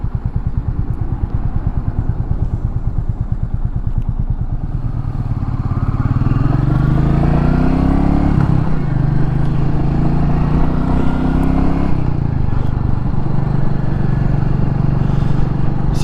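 A 2021 Royal Enfield Meteor 350 motorcycle ridden along, its single-cylinder engine thumping loudly and steadily, with the pitch rising and shifting through the gears, close up and continuous, with wind noise and no talking.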